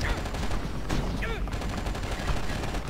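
Gunfire from the video game Oni, including plasma rifle shots, crackles in rapid bursts amid dense, loud game action and effects throughout.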